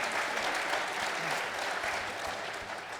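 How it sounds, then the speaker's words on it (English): Audience applause fills a hall at a gypsy jazz show in Redmond, Oregon, a dense, steady wash of many hands clapping at moderate distance. "Round of applause if you already know who that is."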